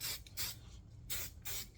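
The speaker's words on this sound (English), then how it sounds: "Get a couple good sprays in" Four short bursts of spray paint from an aerosol can, hissing loudly and evenly spaced with brief pauses between them, close up, applying light coats of a Rhodesian brushstroke camouflage finish.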